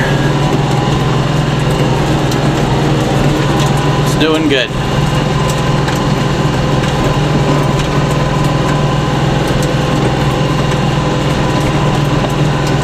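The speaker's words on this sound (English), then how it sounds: "durability test of my tractor." A tractor engine runs continuously with a steady droning hum while driving over bumpy pasture during reseeding, loud and close throughout, with a brief clattering jolt midway and someone speaking briefly.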